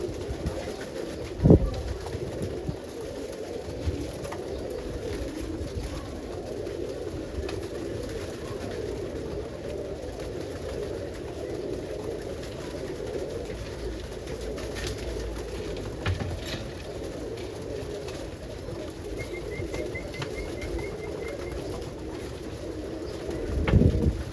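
Pigeons coo steadily in a roller pigeon loft, a dense low murmur of overlapping calls with a few wing flaps and light knocks, no talking.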